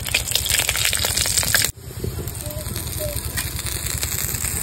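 Bay leaves, dried chillies, whole garam masala and cumin seeds go into hot oil in a pan, where a loud burst of crackling sizzle drops suddenly to a steady, softer frying hiss.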